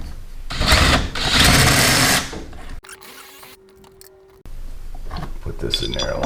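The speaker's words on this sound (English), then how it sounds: "And I'm going to drill these holes out." Power drill boring holes while mounting a portable hoist for removing a fifth-wheel hitch, loud bursts of whining drilling for a couple of seconds, a pause with a faint steady tone, then drilling again up close.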